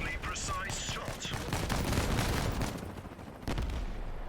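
Loud, rapid bursts of vehicle gunfire from the Crossout combat game, crackling almost continuously for several seconds with a brief lull near the end, while a voice talks over the shooting.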